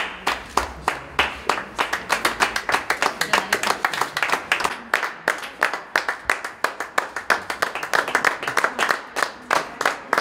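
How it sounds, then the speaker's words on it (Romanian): Performers on a theatre stage applaud the audience, giving a sustained round of close, crisp clapping from a group, with brief bursts and dips across the hall. "de această dată a fost rândul artiștilor să-i aplaude pe spectatori"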